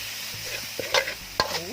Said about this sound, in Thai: ผัดให้เนื้องัวสุก